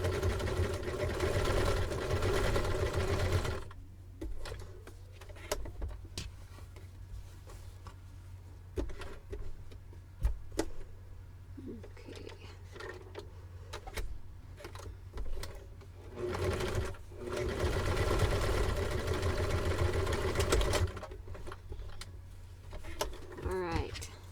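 A sewing machine joins fabric pieces together, running in a steady, loud whir at the start and again near the end, with a quieter middle stretch of clicks and fabric handling.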